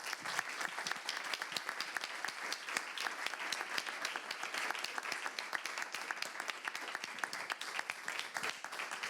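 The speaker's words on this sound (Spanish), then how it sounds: "pues pido un aplauso" A small audience at a back-to-school talk claps steadily, the individual hand claps distinct and fairly close, forming an even, sustained round of applause at low volume.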